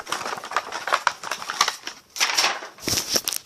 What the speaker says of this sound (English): let's try to see if we can open this packaging up